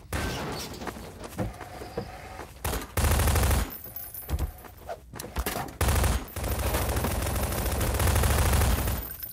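Rapid automatic gunfire from a Prop Hunt video game match comes in loud, dense bursts separated by short quieter gaps, sounding close and sustained near the end.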